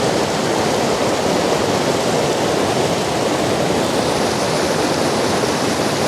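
Rushing waterfall in Colorado mountains during fall color, a dense, steady roar of falling water filling the whole clip evenly and loudly, with no voices.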